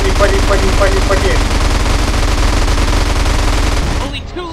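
Sustained automatic gunfire in GTA San Andreas, a dense loud rattle of rapid shots running almost continuously for about four seconds before cutting off abruptly, with a faint voice briefly underneath.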